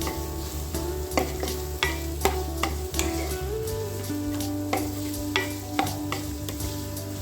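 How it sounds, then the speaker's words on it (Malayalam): Sliced onions sautéing in a pan for a tomato gravy curry, a steady sizzle under repeated scraping strokes of a spoon at a regular rhythm, close and moderately loud, with no voices. "ഈ സവോളയൊക്കെ ഒന്ന് ഇളക്കി നന്നായിട്ടൊന്ന് വഴറ്റിയെടുക്കാം"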